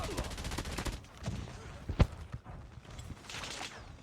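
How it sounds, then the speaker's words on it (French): Rapid gunshot bursts from a video game weapon, faint and distant beneath a quiet game mix, with a tight string of shots early on and a single sharper report midway. "Je crois qu'il a une arme en rafale"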